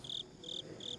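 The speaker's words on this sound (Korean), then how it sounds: "낮에 시끄럽던 수채화는 이제 귀뚜라미 소리만이 요란할 뿐이었다" Crickets chirp at night in three evenly spaced trills, steady and moderately close, over soft background noise.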